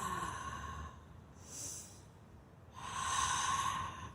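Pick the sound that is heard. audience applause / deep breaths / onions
deep breaths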